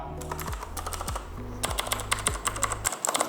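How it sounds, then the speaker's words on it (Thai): Rapid clicky typing on a Corsair K70 RGB PRO mechanical keyboard with Cherry MX Blue switches, crisp tactile clacks in quick uneven bursts, close and clear with a low hum underneath. "จะเป็นสวิชในรูปแบบ Cherry MX Blue Switch นะครับ"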